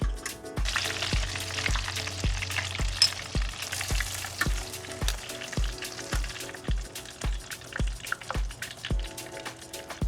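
Chicken fries in hot oil with a steady, faint sizzle and crackle, under a regular ticking pulse that runs alongside it throughout.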